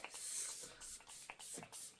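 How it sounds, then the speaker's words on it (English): e.l.f. Stay All Night makeup setting spray hisses from a pump bottle in several quick close bursts, about four sprays in a row with short gaps between them. "take a little bit of the Stay All Night e.l.f. setting spray to set all this in place"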